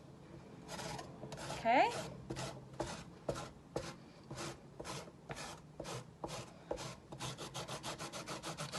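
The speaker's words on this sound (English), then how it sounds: "I'm just using a microplane here, but you can use any type of grater you like" Vegetables are scraped across a fine microplane grater in steady rhythmic rasping strokes, close and fairly loud, with the pace quickening toward the end and a brief spoken word over it.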